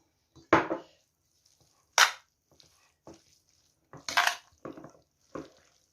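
Minced meat being worked through cooked spaghetti for a casserole, giving a series of short, close wet squelches and clattering utensil knocks in uneven bursts with quiet gaps between.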